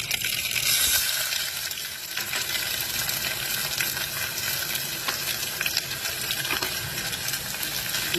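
Chopped shallots and garlic frying in hot oil for a mushroom masala curry, a steady close hiss and crackle that carries on evenly throughout, with no voices.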